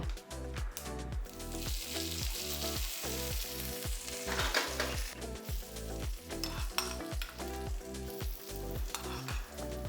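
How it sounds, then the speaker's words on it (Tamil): Urad dal frying in oil for an onion tomato chutney, a steady close sizzle running the whole time with rhythmic low thumps of stirring throughout. "அந்த உளுந்தம்பருப்பு கோல்டன் கலரில் வந்தோடனே ஆஃப் பண்ணிடலாம்"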